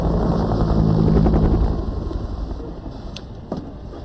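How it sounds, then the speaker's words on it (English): Huey helicopter rotor blades in a Vietnam landing zone, a rhythmic, loud chop that fades as the aircraft pulls away, with some sharp clicks near the end. "Tell me where you are from the sound of my rotor blades."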